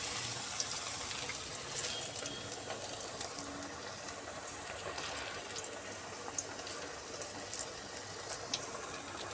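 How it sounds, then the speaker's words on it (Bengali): Flattened lentil fritters (piyaji) fry in hot oil with a continuous, fairly quiet sizzle and scattered crackling pops, steady throughout with no voices over it. "এইভাবে বড়াগুলো ভেজে নিতে হবে। এইভাবে একটু চ্যাপটা করে এইভাবে তেলের মধ্যে ছেড়ে দিতে হবে।"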